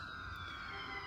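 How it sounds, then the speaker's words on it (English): A faint, steady siren drones in the distance behind a low background hum. "sorry for the siren"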